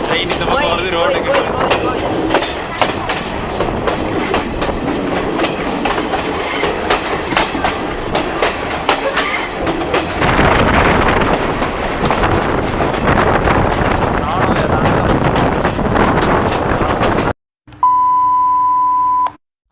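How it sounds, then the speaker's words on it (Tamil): A train runs past a road in Sri Lanka on the Badulla to Colombo line, its wheels clattering loudly and steadily up close. Near the end a single electronic beep sounds briefly. "ட்ரெயின் இந்த பக்கம் வருது ரோடுக்கு"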